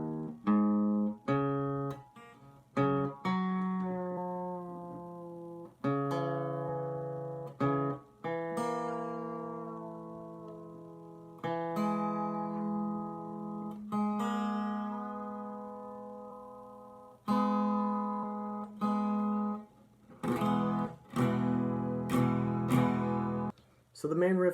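Guitar tuned to an alternate tuning, with single strums and let-ring chords struck one after another, each sustaining and decaying, played close and alone.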